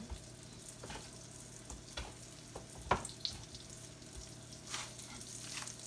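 Floured chicken fried steak sizzles on a flat top griddle, a faint steady hiss broken by a few soft clicks and knocks, with no voices.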